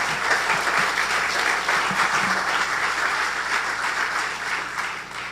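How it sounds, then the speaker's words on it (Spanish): A church congregation gives loud, sustained applause for the Lord, a dense wash of many hands clapping that stays steady throughout. "Dale un fuerte aplauso al Señor"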